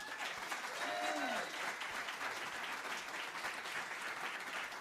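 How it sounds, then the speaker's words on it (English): Steady applause from a crowd at a live radio show fills the space, a dense wash of clapping that holds at an even level throughout. "So give them a big round of applause."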